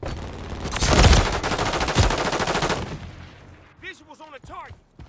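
Sustained automatic fire from a remote turret in the Call of Duty video game, loud and continuous for about three seconds, then fading as voice radio chatter takes over.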